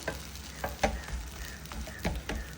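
A coconut dosa sizzles on a hot pan with a soft, steady crackle, faint overall, punctuated by several short scraping or stirring sounds.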